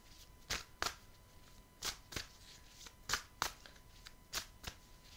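A Belline oracle card deck is shuffled in quick paired riffles, soft crisp bursts repeating about every second and a quarter, quiet and close with no talking.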